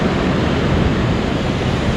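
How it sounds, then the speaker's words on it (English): Strong wind gusts beside a river in Norway, a loud, steady roaring rush with heavy microphone buffeting that stays constant throughout, with no voices. "It's very windy and only 12 degrees."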